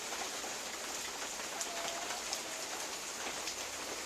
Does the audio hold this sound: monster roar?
no